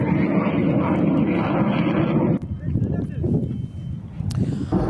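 An American fighter jet roars loudly in attack footage, a dense engine rumble that dips briefly and then returns, with a voice talking over it.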